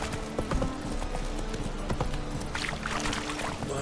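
Horse hooves clip-clopping at a steady walking rhythm in The Witcher 3, close and fairly quiet, with a faint watery splash later and ambient game sound beneath.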